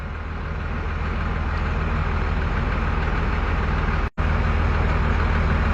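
An old truck engine idles steadily close by, a deep continuous rumble that holds even throughout, broken only by a brief dropout near the end, with no talk over it.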